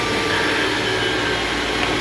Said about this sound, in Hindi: मैं अभी सिर्फ इतना कर रहा हूँ कि इसको ब्लेंड करूँगा इस मशीन में